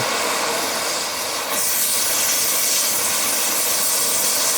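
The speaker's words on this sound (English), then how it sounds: "Unless you got a higher flow nozzle for the torch." A cutting torch hisses loudly and steadily while a box-store log splitter is being modified, a close, continuous roaring rush of gas that barely changes over several seconds.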